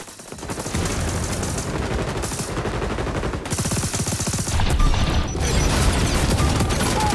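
Sustained automatic AK-47 fire in the shooter game XDefiant, loud and close, with rapid rhythmic bursts running nearly the whole time and only brief gaps.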